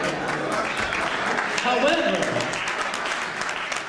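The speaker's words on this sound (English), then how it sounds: "You're clapping" Audience clapping at a speech fills the background as a steady, dense patter beneath someone talking over it.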